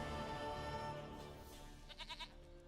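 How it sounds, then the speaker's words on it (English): A goat in The Witcher 3 gives a short run of quick bleats near the end over steady game background sound and music. "Goat of mine, dearest,"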